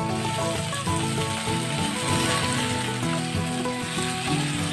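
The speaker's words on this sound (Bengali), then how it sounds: "এবার এই সময়তেই আমি টমেটোগুলোও দিয়ে দেবো" Tomatoes go into onion and ginger-garlic paste frying in a pan for a dhaba-style Punjabi aloo gobi, producing a dense, steady sizzle with soft stirring clatter, close and continuous.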